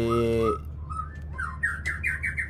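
A white-rumped shama calls in a quick series of bright, rising whistled notes, clear and close, after a brief sustained tone at the start.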